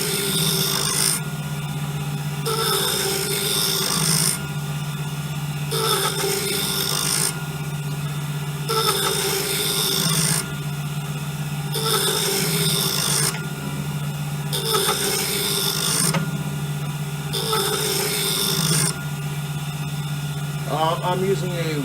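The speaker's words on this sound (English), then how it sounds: "I'm using a Wen lathe." A Wen lathe runs with a steady motor hum while a tool scrapes the wood in regular rhythmic passes, each a few seconds long, loud and close.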